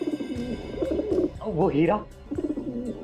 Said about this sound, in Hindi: घर को देख के ऐसे लग रहा है जैसे ये कबूतर तुम्हें पाल रहे हैं